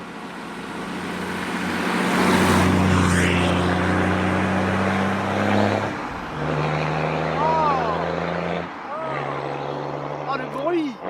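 An old six-cylinder car engine revs through its exhaust, giving a loud, deep drone that rises and falls in several bursts. Voices talk over it throughout.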